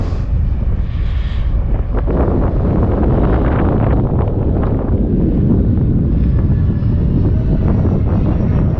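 A MiG-29 jet in a flight video game with its engine throttling up: a loud, steady roar with a wind-like rush that holds for the whole stretch, with no talking.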